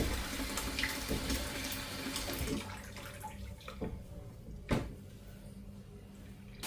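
Urad dal rinsed in water for millet dosa batter, with running water and splashing at a kitchen sink that fade to quieter swirling, broken by a sharp knock near the end.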